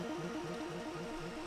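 Saw-wave synth patch arpeggiated upward while its filter opens, with ping pong delay repeats bouncing behind the dry signal, a dense steady rhythmic pulse in a short burst.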